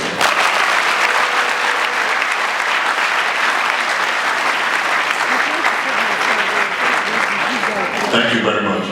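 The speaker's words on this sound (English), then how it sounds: "give these guys a big round of applause" A seated audience at a book launch for a state governor breaks into loud, sustained applause, dense clapping filling the room steadily for several seconds before tapering at the end.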